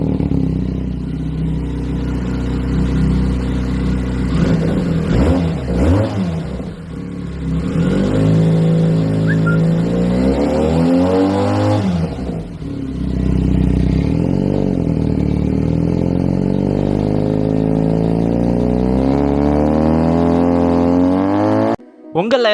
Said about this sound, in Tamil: அதே போல் இந்த வண்டியோட எக்ஸஸ் சவுண்ட் எவ்வளோ கேட்டிருக்கீங்களா?